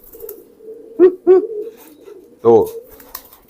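A pet pigeon coos close by, two quick throaty coos followed by a longer, deeper coo, with a brief spoken word in between.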